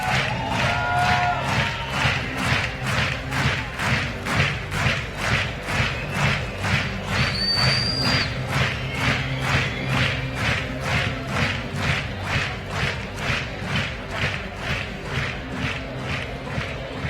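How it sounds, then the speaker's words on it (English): Steady rhythmic clapping from a large crowd at a young-horse dressage championship, loud and sustained throughout, with a few brief whistles or cheers rising above the beat. "An applause for 4 Legends."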